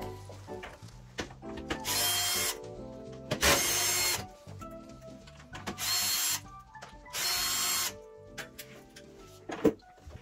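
A power screwdriver backs out screws from the rear panel of an AEG clothes dryer, giving four bursts of whirring drill noise a couple of seconds each, separated by light clicks and handling sounds nearby, with no talking.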